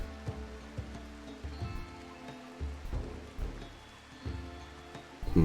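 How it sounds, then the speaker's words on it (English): Steady rain falls in the video game RimWorld, a soft continuous patter with a few brief thumps and low rumbles, moderately quiet with no voices over it. "at some point the friggin' rain has to stop"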